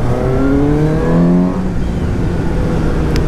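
A 2017 Suzuki GSX-S750 naked motorcycle accelerates hard. The engine note climbs steeply for about a second and a half, then fades into loud rushing wind noise.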